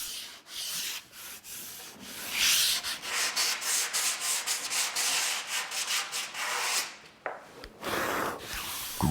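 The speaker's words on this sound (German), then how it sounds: "Die Seiten der Nut schleift Leander von Hand glatt." Hand sanding the sides of a routed groove in wood for a table build, a steady close scratchy rubbing in quick back-and-forth strokes with brief pauses, no talking.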